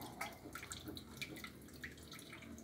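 Whirlpool washing machine filling with water: faint trickling and dripping water with small splashes, steady and quiet throughout.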